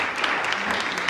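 Audience applause from a university lecture crowd, a dense steady patter of many hands clapping, moderately near and filling the whole moment without speech.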